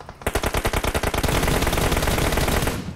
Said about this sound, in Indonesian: Tiga orang tembak kau.